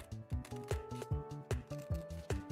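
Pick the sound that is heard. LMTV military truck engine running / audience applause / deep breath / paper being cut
paper being cut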